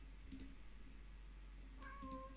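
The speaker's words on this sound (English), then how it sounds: "my cat's here saying hi" A house cat gives a short, faint meow or two, drifting in over a steady low hum in a quiet room.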